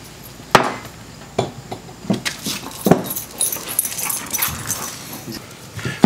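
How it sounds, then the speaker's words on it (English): A dog runs around a garage workshop, giving a few sharp close thumps and scrabbling bursts among quieter shuffling and faint whimpers, the irregular knocks spread over several seconds. "Got a crazy dog running around."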